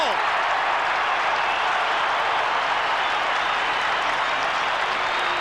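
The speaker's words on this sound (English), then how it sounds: "The Saints crowd like it. A goal." A dense crowd at a 1992 Australian football match between Hawthorn and St Kilda roars and applauds a goal, a loud, continuous wash of cheering.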